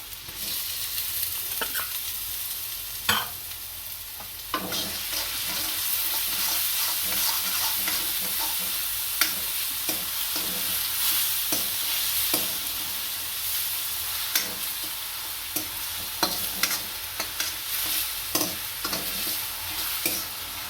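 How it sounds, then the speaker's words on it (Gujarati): Chillies fry in a pan while Manchurian is being made, giving a continuous loud sizzle with scattered clicks and scrapes of stirring throughout. "હું મરચાં નાખશું."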